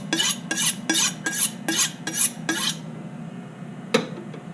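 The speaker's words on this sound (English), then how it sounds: "Also really important to just stir your pasta" Spaghetti stirred in a metal pot, heard as seven quick rhythmic scraping strokes close up, followed by a pause, a single clink and quiet background hiss.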